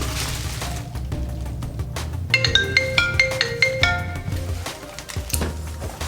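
Phone ringtone chiming a short repeating melody of bright tones for a couple of seconds, moderately loud indoors amid faint handling noise.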